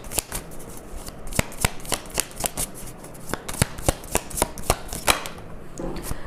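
Tarot cards are shuffled close up, giving a run of crisp, snappy riffles and flicks repeated at an uneven pace, with no one speaking.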